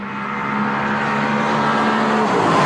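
Michael Schumacher drives a Ferrari Formula One car at about 145 miles an hour on Ferrari's test track, a loud, steady high-pitched engine whine from on board, building slightly in level.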